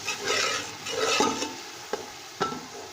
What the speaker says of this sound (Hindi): अब इसको हम भून लेंगे अच्छी तरह से तकरीबन 3-4 मिनट तक